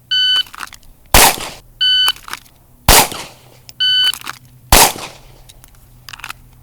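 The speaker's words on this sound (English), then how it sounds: "I'm gonna fire 1 round at the body." Handgun shots fired at a target during timed draw drills, heard as sharp, loud, close cracks. Each crack follows a short electronic shot-timer beep, and the beep-and-shot pattern repeats in a regular rhythm.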